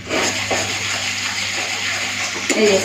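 A masala paste of ground ginger, garlic, onion and a dried red chilli fries in a pan with a steady, close hiss and sizzle. Faint scraping and stirring rise near the end.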